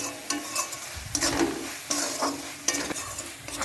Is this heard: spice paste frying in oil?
yes